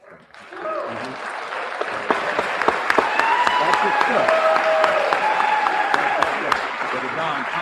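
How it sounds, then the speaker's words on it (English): A debate audience in Harlem breaks into applause as a speaker is cut off, clapping building quickly and holding steady and loud, with sharp individual claps standing out and voices talking underneath. "They're applauding him being cut off, by the way."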